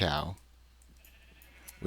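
A sheep in the Minecraft video game bleats once while being sheared, a short, loud, synthetic bleat followed by near silence and a faint click at the end.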